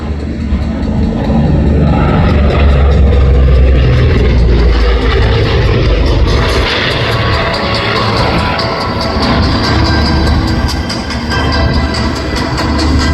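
An airplane passes during the Wings over Houston airshow, a loud continuous engine roar with low rumble that swells slightly midway, while a crowd murmurs faintly beneath.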